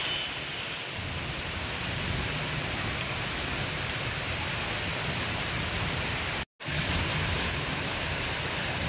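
Heavy rain pours down in Jessore as a loud, dense, unbroken hiss of downpour filling everything, broken only by one split-second dropout near the end.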